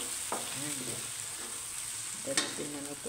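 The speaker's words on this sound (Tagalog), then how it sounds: "So, haluin natin yung ating scrambled egg with kamatis." Scrambled egg with tomato sizzles quietly in a pan while a utensil stirs it, with soft scraping strokes in two short bursts over a steady frying hiss.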